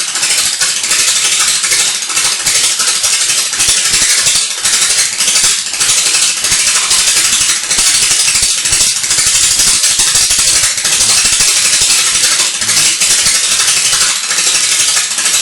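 Kicking-coil Tesla pancake coil throwing sputtering sparks, a loud, harsh, continuous crackling buzz with rapid rattling irregularity that runs unbroken the whole time, and no talking.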